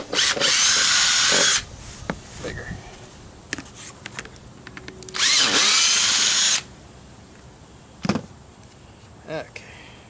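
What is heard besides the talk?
power drill drilling holes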